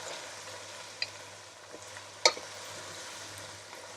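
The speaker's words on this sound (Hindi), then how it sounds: "इसे भी लहसुन अदरक के साथ अच्छी तरह से फ्राई करूंगी" Boiled beef frying in a pan with garlic and ginger gives a quiet, steady sizzle, broken by a few sharp clicks of stirring against the pot, with no voices.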